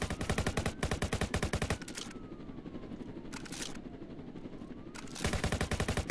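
Rapid automatic gunfire from a cop shootout in the Roblox game Jailbreak, loud dense bursts at the start and end, with a quieter rumbling stretch between them that carries a faint rising and falling whine.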